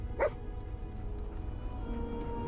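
A dog in the Fallout 4 video game gives a single short, sharp bark near the start, then low steady game ambience continues.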